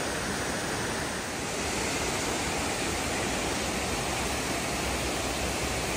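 Loud, broad roar of rushing river water in Sarajevo, a steady close wash of noise like a river pouring over rocks, with no voices.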